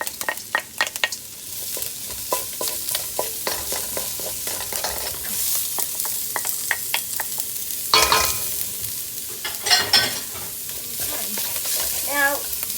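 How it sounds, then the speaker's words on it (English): Carrots and celery sizzle in a hot wok while being stir-fried for Chinese fried rice, a continuous loud crackle broken by sharp scraping clatters as the vegetables are tossed, with no talking. "throw in my carrots and celery. Okay, and I can hear it sizzling."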